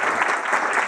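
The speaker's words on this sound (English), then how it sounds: "Give him a round of applause." Audience at a cybersecurity talk breaks into applause, a brief, dense and fairly loud burst of many hands clapping at once with no clear gaps.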